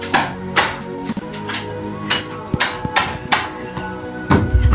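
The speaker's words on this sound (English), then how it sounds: "we are still undergoing the process of chiseling" Chiseling into concrete walls to cut channels for electrical conduit at a hotel construction site: a string of sharp, irregular hammer-on-chisel strikes, loud and near, with no talking.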